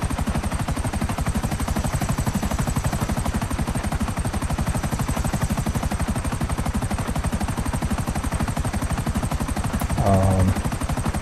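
A helicopter's rotor in the video game Grand Theft Auto V chops rapidly and evenly throughout, a loud steady thudding with a brief extra burst near the end.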